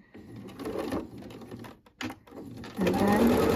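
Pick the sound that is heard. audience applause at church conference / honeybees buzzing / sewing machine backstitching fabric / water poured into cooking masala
sewing machine backstitching fabric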